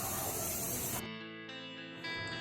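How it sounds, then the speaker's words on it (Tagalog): Spray paint hisses onto a motorbike in a steady, close burst that cuts off after about a second, followed by quieter background hum with tonal noise. "ang pag-spray po natin, hindi lang isang beses"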